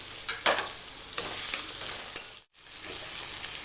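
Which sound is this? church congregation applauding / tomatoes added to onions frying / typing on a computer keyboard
tomatoes added to onions frying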